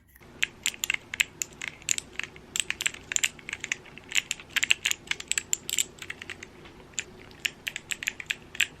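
Plastic keycaps are pressed onto a computer keyboard in a quick, irregular series of sharp, close clicks and snaps, with no talk over them.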